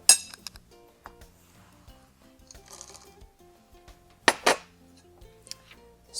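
Chocolate chips drop into a glass bowl with scattered small clinks and taps, including a sharp cluster of bright rattling clinks near the end. The sounds are close and fairly quiet.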